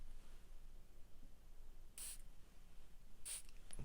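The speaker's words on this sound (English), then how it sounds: "I'm just going to spray the fragrance" Two short, faint hissing spritzes of Zara Imperial Purple perfume sprayed from its bottle, spaced about a second apart against a quiet room background.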